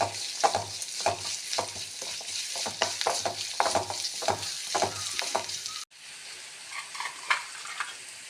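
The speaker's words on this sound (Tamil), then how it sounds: "சின்ன உள்ளி நல்ல ப்ரௌன் கலர் வரும் வரை வதக்க வேண்டும்" Small shallots sautéed in a pan for a Kerala-style curd curry, heard as steady frying sizzle with repeated scraping stir strokes, close and fairly loud, then a quieter sizzle after a brief cut.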